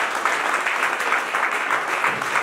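A church youth concert audience claps in dense, continuous applause, steady and moderately loud with no pauses.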